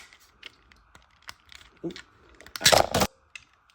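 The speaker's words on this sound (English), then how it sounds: "Make sure you hear a small click" Small plastic pegs on a Transformers Red Alert toy snap into place with a few sharp, close clicks. Softer handling taps and rustles come before a louder cluster of clicks.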